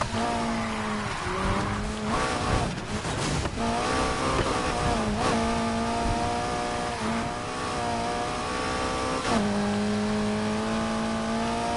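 McLaren 600LT supercar engine in Need for Speed Heat, loud and steady, revving through gear changes with rising and falling pitch and brief tire squeal, heard alone throughout.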